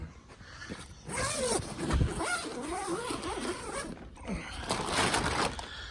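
Zipper of an Evoc bike travel bag being pulled open in a few rough scraping runs, fairly close and moderately loud, with short pauses between pulls.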